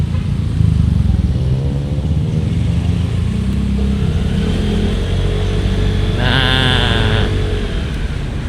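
Vespa Sprint scooter accelerating, with a loud, close engine drone that rises in pitch as it pulls away. Near the end a brief, higher whine sweeps up.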